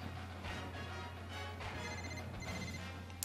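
A telephone rings faintly against a steady electronic hum, a repeated ringtone-like tone with no talk over it.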